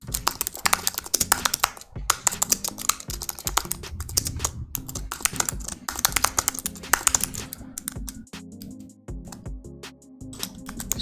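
Fast, continuous typing of code on a computer keyboard, dense close-up key clicks in rapid runs with brief pauses, no voices.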